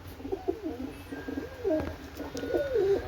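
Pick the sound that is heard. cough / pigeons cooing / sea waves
pigeons cooing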